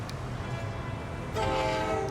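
A steam-style train whistle in Transport Fever 2 blows a steady, loud tone for about a second near the end, over the constant low rumble of the train.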